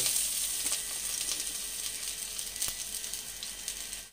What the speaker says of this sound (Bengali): যে পেঁয়াজগুলো আমি লম্বা করে কেটে রেখেছিলাম সেই পেঁয়াজগুলো ঘিয়ের মধ্যে ভেজে নেব।